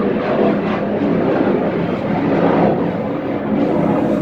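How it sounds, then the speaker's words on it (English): A fighter jet passes overhead, heard as a loud, broad, continuous roar that stays strong throughout. "got a fighter jet flying over."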